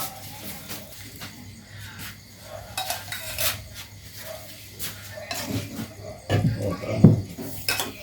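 Thai home-cooked food ladled from a pot into a bowl, with clinking metal and dish knocks over a faint background of insects, louder scraping clatter near the end.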